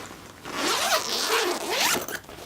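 A backpack zipper is pulled open close up, several quick rasping strokes with rising and falling pitch following one another, clear and alone with no talking.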